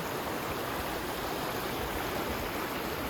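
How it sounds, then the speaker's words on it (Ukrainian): A full river rushes steadily nearby, a dense even roar of flowing water like a small waterfall, constant and moderately loud with no voices. "Немов водопад якийсь. Це, до речі, річка"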